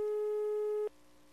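A telephone ringback tone sounds as one steady electronic beep lasting almost a second, then cuts to a faint line hum, with no voices.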